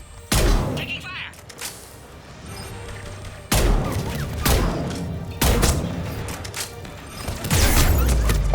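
Gunfire in Mass Effect on the Citadel: several heavy, booming shot impacts come in separate loud bursts, with a voice talking between and under them.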